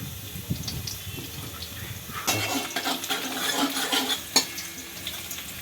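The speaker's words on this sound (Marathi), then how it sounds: "यांनी फोडणी सुद्धा सुरुवात केलेली आहे तर इथे तुम्ही बघू शकता भाजी घातलेली आहे लसूण तेलामध्ये" Vegetables land in hot garlic oil partway through, setting off a loud sizzle of tempering with stirring and the clink of a spoon on the pan; before that, only quiet kitchen sounds.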